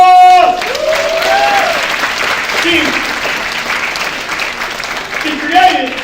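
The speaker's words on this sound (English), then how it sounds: "Give yourself a round of applause." A crowd claps steadily for several seconds at a keynote talk, broadband applause filling the room, with a voice speaking briefly at the start and again near the end.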